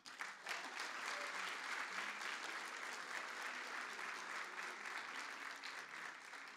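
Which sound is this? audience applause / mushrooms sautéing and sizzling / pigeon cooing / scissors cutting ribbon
audience applause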